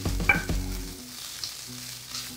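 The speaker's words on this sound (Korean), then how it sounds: "1분 돌린 햇반 한 공기 때려넣고 잘 섞어줘." Rice being stirred into green onion and garlic in an oiled pan, a few sharp scraping strokes at the start, then a quiet low sizzle with faint clinks.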